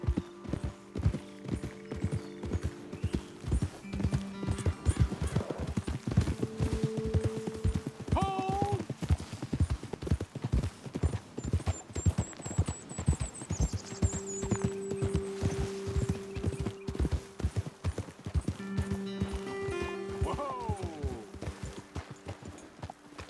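Horses in Red Dead Redemption 2 moving at pace, a steady run of hoof clip-clops over a game soundscape with music tones, continuous through the clip and moderately loud.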